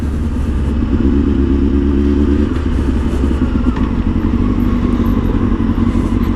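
A Honda Hornet 600 motorcycle ridden home from work, its engine loud and close with a rising and falling drone as it rolls through traffic, joined by mechanical clatter and no talk.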